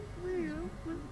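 In Vampire: The Masquerade Bloodlines 2, a cat lets out a drawn-out meow that bends up and down, then a brief second mew, both near and fairly soft over quiet game ambience.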